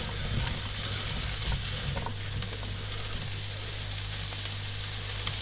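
Mushrooms and sweet pepper sizzling in a pan, a constant close crackling fry with occasional stirring scrapes and a low steady hum beneath, no talking.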